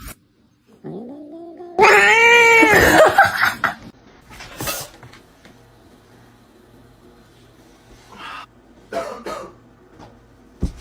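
A cat lets out a long, loud, wavering yowl that rises and falls, followed by quieter scuffling, a brief hiss-like burst and a few faint later cries, with no talk.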